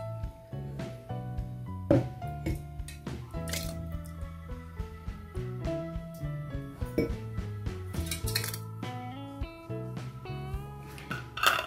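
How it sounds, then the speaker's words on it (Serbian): Hot homemade salsa sauce being poured into glass jars in a home kitchen, with repeated clinks and knocks of glass and metal lids and utensils, close and fairly quiet. "Vruć sos veoma pažljivo sipajte u tegle."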